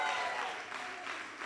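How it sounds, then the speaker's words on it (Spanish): A large congregation at a European church congress clapping steadily, a dense and even wash of applause filling the hall. "Démosle un aplauso, Señor, por Barcelona"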